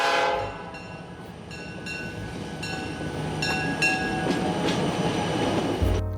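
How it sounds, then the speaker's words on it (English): A train riding on the rails through the White Mountains of New Hampshire near Crawford Notch, a continuous rumble with rhythmic wheel clatter and faint squeals, heard from on board and fairly subdued. "Today, we're taking a train ride."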